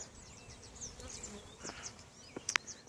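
Honey bees buzz around pollinator contract hives, a steady close drone with individual insects whining past the microphone and a couple of sharp nearby passes near the end.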